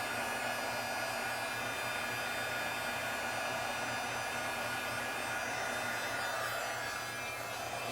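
Embossing heat tool blowing hot air, a steady close broadband whoosh like a small hair dryer that runs unbroken throughout, with no voices over it.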